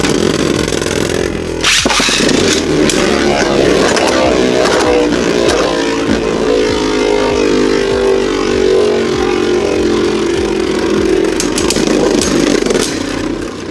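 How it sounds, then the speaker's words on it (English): A Hasbro Beyblade Burst Evolution SwitchStrike Spryzen Requiem, launched softly, spins in a stadium with a steady whirring hum and a light rattle that carries on for several seconds without voices. "I'm gonna do an even softer launch for SPRYZEN REQUIEM"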